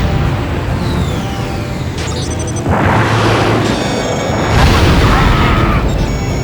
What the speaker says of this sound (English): Warning. Inbound missile.